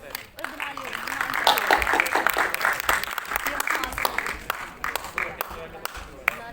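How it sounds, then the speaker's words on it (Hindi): Applause from an audience at an NSS seven-day camp valedictory function welcoming a group dance performance: sustained, dense clapping that swells and holds for several seconds, with crowd murmur and some voices underneath. "Please welcome them with a huge round of applause."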